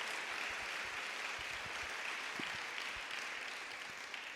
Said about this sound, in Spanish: Demos un aplauso para gloria de Dios Padre.